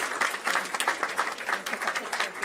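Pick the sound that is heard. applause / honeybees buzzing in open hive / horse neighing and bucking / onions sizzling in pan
applause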